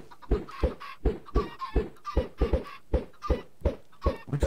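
Chickens clucking in the video game Minecraft, a steady run of short, evenly spaced clucks repeating about every third of a second, clear and fairly close with no talk over them.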